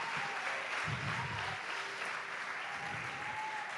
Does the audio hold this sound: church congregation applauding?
yes